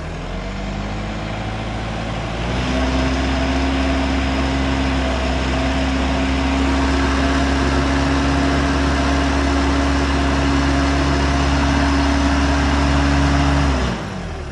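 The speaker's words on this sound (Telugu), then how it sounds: "ఇంజిన్ నాయిస్ డిఫరెంట్ వచ్చింది" A 2017 tempo van engine with high mileage idles loudly and steadily, its pitch stepping up after a couple of seconds and holding a constant drone before dropping near the end.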